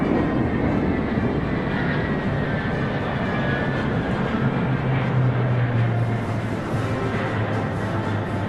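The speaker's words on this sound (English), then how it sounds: "The Y-20 is a large-sized transport plane." A Y-20 large transport plane passes over a Chinese military parade, a loud, steady low engine roar that holds throughout with a slight rising drone midway, no voices heard.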